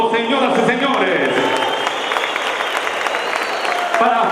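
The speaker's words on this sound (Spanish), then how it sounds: "El caluroso aplauso, señoras y señores," Warm applause from the audience at a national equine exhibition award reading, a dense, steady wash of clapping lasting throughout with crowd noise mixed in.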